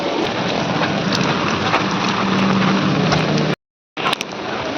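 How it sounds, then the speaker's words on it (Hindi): Heavy rain pours steadily in a dense, loud hiss, broken by a brief cut to silence before the downpour resumes. "बहुत तेज बारिश हो रही है।"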